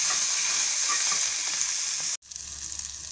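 Tomato chutney with mint leaves and chopped coriander sizzles and fries in a pan over low flame, a steady dense crackle that cuts off briefly near the end, then resumes with a low hum underneath.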